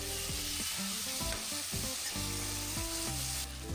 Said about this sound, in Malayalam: മസാല എണ്ണയിൽ കിടന്ന് നന്നായി ഫ്രൈ ആയതിനു ശേഷം നമുക്ക് 2 സ്പൂൺ തൈര് ആഡ് ചെയ്യാം